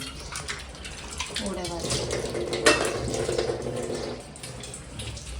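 Water runs from a kitchen tap while dishes clatter and clink beneath it, with a voice speaking briefly over the washing.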